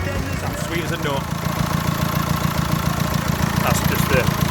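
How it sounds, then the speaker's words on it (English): Volkswagen Crafter diesel engine idling steadily at close range after a timing belt repair, with a low, even hum and a faint induction whoosh beneath it. "That's just the induction noise you can hear."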